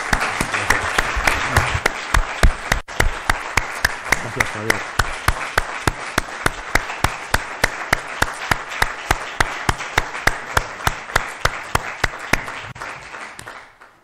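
An audience applauds at the close of a public talk and dialogue event, sustained clapping filling the room and slowly fading toward the end, with a brief spoken thanks over it.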